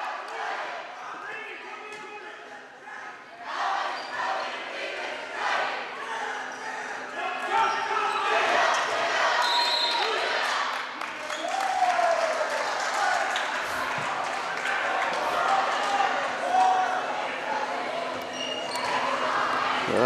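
A high school basketball crowd with cheerleaders, band and student section cheering loudly in a gym, a sustained dense roar of voices with swelling peaks for the Comets, with commentary over it.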